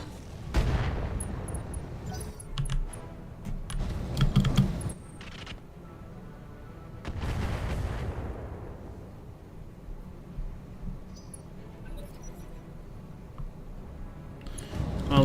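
Mech weapons fire in a video game as several heavy booming salvos with rumbling tails, separated by quieter gaps, with a voice speaking between the shots.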